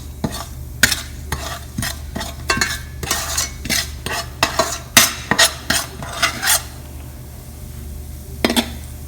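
Spoon stirring spices as they temper in hot oil in a pan before cabbage goes in, a series of sharp metallic scrapes and clinks against the pan over a soft sizzle, then a quieter stretch with one last clink.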